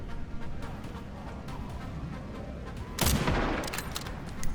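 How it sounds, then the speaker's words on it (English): Shooting zombies in Resident Evil Requiem brings rapid, crackling gunfire with a dense stream of shots and one sharper, louder burst partway through, with no talking. "You can preemptively shoot some of the bodies."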